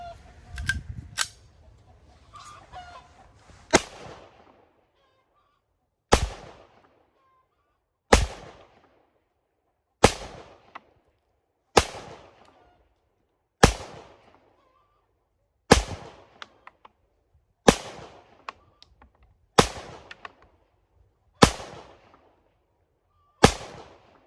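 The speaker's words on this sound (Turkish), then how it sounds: "arkadaşlar atışımızı gerçekleştirdik" A Blow TR17 02 blank pistol fires about a dozen sharp, loud single bangs, spaced roughly two seconds apart with quiet gaps between them, after some soft handling noise at the start.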